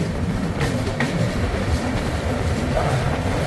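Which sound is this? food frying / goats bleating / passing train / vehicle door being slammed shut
passing train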